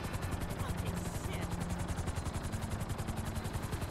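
A helicopter in Grand Theft Auto V beats loudly with fast, rhythmic rotor pulses, with gunfire mixed into the steady chopping throughout.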